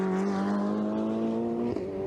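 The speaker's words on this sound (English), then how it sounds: "Around turn 14 the cars come now." Ferrari 488 Challenge race cars run at the Hungaroring circuit, with a strong, steady engine tone that shifts in pitch as a car passes, heard at moderate distance with no voices.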